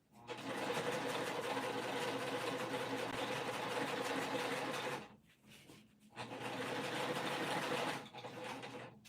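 A sewing machine stitches a winter crescent bag in a loud, steady run that halts briefly, then resumes for a second long stretch before trailing off.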